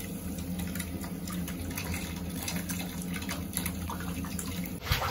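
Hot water runs steadily from a tap, a continuous even hiss and splash that stays constant for several seconds, then ends with a louder burst.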